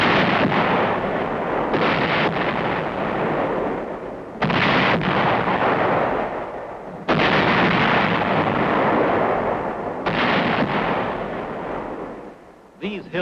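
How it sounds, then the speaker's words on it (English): 24th Division artillery fires on Hill 584 in 1951, a loud, sustained roar of gunfire and blasts with sharp new bursts about every few seconds, continuing without a break. "24th Division Artillery prepares to open fire on Hill 584"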